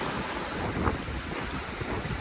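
On a sailboat moving at around ten knots, steady wind rushes across the microphone while waves wash against the hull, a continuous loud roar with no talk.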